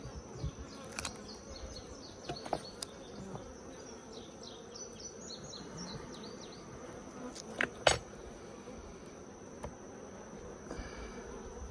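Honeybees hum around an open Layens hive, a faint, steady buzz with individual bees passing close now and then, plus a few light clicks and knocks from frames being handled.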